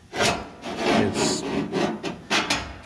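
Scribing a mark on a metal trunk floor pan during a Chevy II restoration, a series of short scraping rubs repeated in a quick back-and-forth rhythm, close and fairly loud, with no talk.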